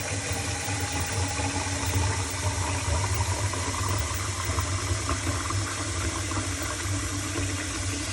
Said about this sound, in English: We're gonna put some water all the way to the top.